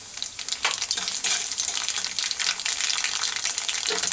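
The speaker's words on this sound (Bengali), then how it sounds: "লঙ্কাটা বেশ ভাজা হয়ে গেছে, এবার আমি কালো জিরেটা দিয়ে দেব" Dried red chili and black cumin seeds crackle and sizzle in hot oil for a Bengali bean bhorta, a steady, close hiss with occasional stirring and no talk.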